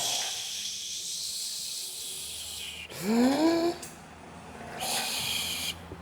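A voice mimics the hiss of air suspension on a Nissan Navara lifting to drive height: a long airy hiss, then a rising whoosh, then another steady hiss, close and alone.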